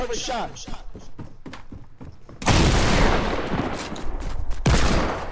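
Fortnite video-game gunfire: a string of sharp shots and thumps opens the stretch, then heavy continuous blasting takes over, loud and close, while players talk excitedly over it.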